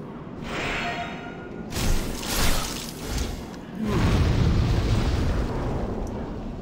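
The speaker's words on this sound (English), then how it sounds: "And something else exploded." Exploding barrels in the video game Demon's Souls (2009): a burst, then a couple of booming blasts, followed by a sustained rumbling roar, fairly loud.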